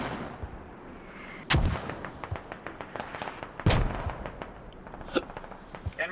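Mortar rounds landing in the Squad tactical shooter, with two heavy booming impacts about two seconds apart, then several smaller crackling reports and a sharp pop near the end, over a steady rumbling battlefield bed.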